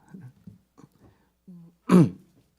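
A single loud, harsh cough bursts out after a few quiet throat noises and soft murmurs in an otherwise hushed room during a dawn church service.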